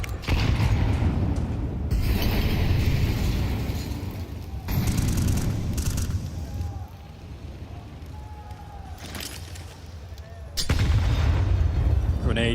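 Heavy booming blasts and rumbling gunfire during a professional Counter-Strike match, loud low bursts starting and stopping abruptly, with an announcer talking over them.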